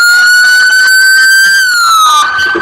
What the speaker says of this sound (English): And you can hear the sheriff's sirens